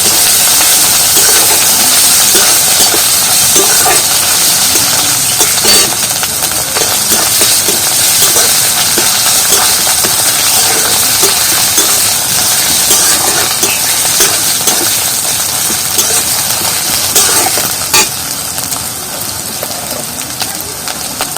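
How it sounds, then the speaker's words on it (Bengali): Spice paste with chopped chilli and garlic sizzles in hot oil for a fish curry, a loud, continuous frying hiss with small crackles that stays close and steady throughout. "এই মশলাটা ভালো করে ভেজে নেব।"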